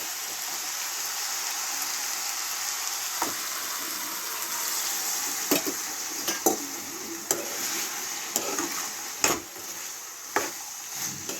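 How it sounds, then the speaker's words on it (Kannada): Cooked field beans being stirred into a pan of pumpkin palya: a constant soft frying hiss, punctuated by sharp clicks and scrapes of the spoon against the pan. No one speaks. "ಇವಾಗ ಬೇಯಿಸಿಟ್ಕೊಂಡಿರೋ ಅಂಥ ಅವರೆಕಾಳನ್ನ ಹಾಕ್ತಾಯಿದ್ದೀನಿ"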